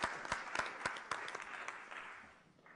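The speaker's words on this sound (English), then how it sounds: "Can we have a round of applause for prizes and sponsors?" A teachers' gathering in a London hotel offers faint applause for prizes and sponsors, with a few distinct sharp claps standing out over a soft, thinning patter that dies away.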